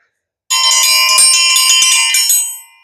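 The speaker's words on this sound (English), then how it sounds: "And there's our finished bell." A hand-forged steel dinner bell hanging from a hanger rings loudly and close, a bright metallic clang repeated rapidly for about two seconds before the tone dies away, with no talking.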